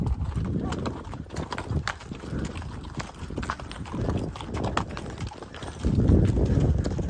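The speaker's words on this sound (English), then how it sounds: "And a pretty nice horse." A horse's hooves clip-clop steadily in a repeating walking rhythm, close and fairly loud, with people talking over them throughout.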